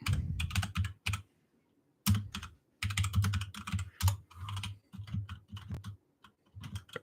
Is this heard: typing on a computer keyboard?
yes